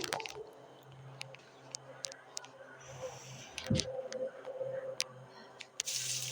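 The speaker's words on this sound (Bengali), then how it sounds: "এইখানে আমি পরিমাণ মতো তেল দিয়ে দিলাম" Cooking oil is poured into a pan to start a pangas fish and radish curry: a soft, close liquid trickle with scattered small drips and clicks over a steady low kitchen hum.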